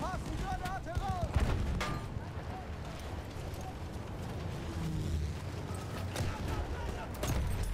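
Grenade blasts and gunfire in the Battlefield 1 video game, scattered booms and shots over a busy battlefield din while someone shouts warnings in German throughout.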